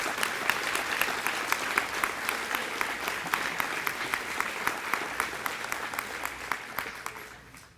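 Audience applause at a school district recognition banquet honoring 25-year award winners, a steady room-filling patter of many hands with a few sharp individual claps standing out, fading toward the end.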